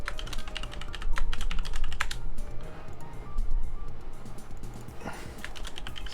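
Fast typing on a computer keyboard while building a game in the Godot engine, dense close clicking key presses in quick irregular bursts with no talk.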